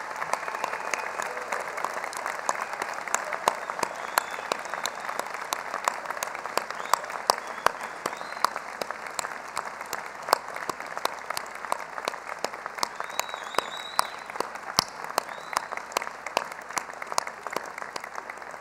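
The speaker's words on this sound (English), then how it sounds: "Let's give our graduates one more round of applause." Sustained applause from a graduation audience honoring university graduates at a University of North Dakota ceremony, dense steady clapping filling a large hall for nearly twenty seconds with no talk.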